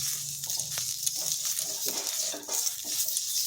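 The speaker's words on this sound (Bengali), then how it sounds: "এখানে একটা কড়াই বসিয়েছি, গরম হয়ে গেছে। এরপর হালকা তেল দিয়ে দিচ্ছি।" A little oil heats in a hot wok before rice-flour batter goes in for thin chakli pitha, giving a soft, steady sizzle with light scraping and stirring noises close by.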